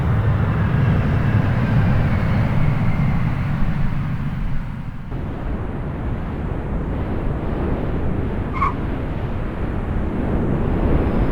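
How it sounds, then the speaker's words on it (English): A Boeing Dreamlifter cargo jet arriving from Charleston at an airport gives a steady, loud, broad jet roar with wind-like rumble throughout, shifting slightly partway as it passes. "This is the Boeing Dreamlifter in from Charleston"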